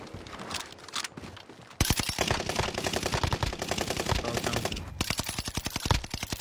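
Rapid automatic gunfire rattles loudly through a battle royale shooter match, with a shorter burst first and then long sustained volleys of closely spaced shots.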